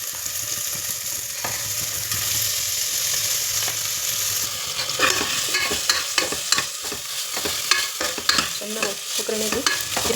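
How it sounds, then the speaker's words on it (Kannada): Washed lentils tipped into a pan of fried tomatoes for lentil sambar, with a steady sizzle giving way to busy clattering stirring and scraping, close and fairly loud, no talking. "ಟೊಮೊಟೊ ಫ್ರೈ ಆಗಿದೆ ಇವಾಗ ಇದಕ್ಕೆ ತೊಳೆದಿಟ್ಕೊಂಡಿದ್ವಲ್ಲ ಬೇಳೆ ಹಾಕೊಳ್ಳೋಣ"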